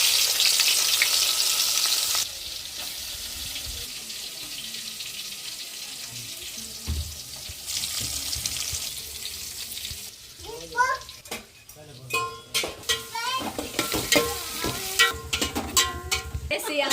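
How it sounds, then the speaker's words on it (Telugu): Silver fish fry in hot oil, a steady bright sizzle that fades partway through, after which clattering and splashing noises take over; a voice speaks briefly over the kitchen sounds. "వెండి చేపలు ఫ్రై చేసుకుందాం."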